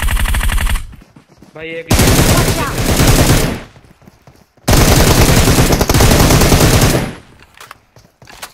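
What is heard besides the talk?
gunshots in the video game PUBG Mobile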